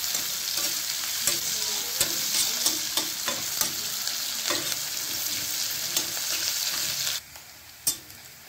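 Prawn and potato pieces frying in a pan for an Odia prawn curry, with a steady loud sizzle and repeated scraping stirs; the sizzle drops away near the end, leaving a few isolated clinks.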